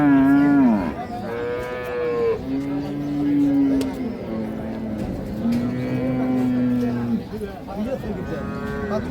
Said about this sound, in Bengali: দাম চলছে গাভী এবং বাছুরের।